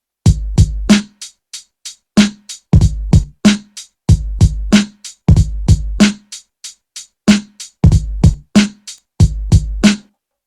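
Programmed hip-hop drum pattern, punchy kicks and snappy hits in a tight repeating two-bar groove, dry and loud with clean gaps between beats and no voices.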